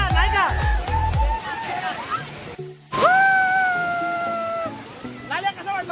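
Monsoon water rushing down at the Malanggad waterfall makes a broad, continuous roar, with voices talking over it.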